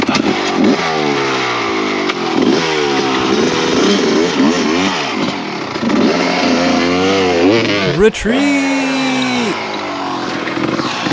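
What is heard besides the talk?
enduro motorcycle engine revving after flooded carburetor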